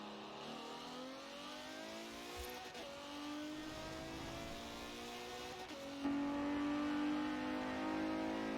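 A Mercedes E63s in Forza Horizon 4 revs repeatedly, its engine note climbing through rising sweeps and shifting, with a louder surge near the end; no voices are heard.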